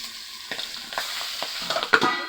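Pabda fish frying in hot oil in a home kitchen, a moderate, steady sizzle with scattered crackles and spatters over about two seconds.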